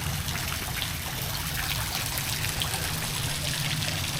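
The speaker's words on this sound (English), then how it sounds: "I'm hoping I can get the right kind of light on it so you can see that the flow of the waterfall is so great." Water pours steadily over a backyard pool waterfall at a rental house in Angeles City, Philippines, a continuous close splashing rush with no voices.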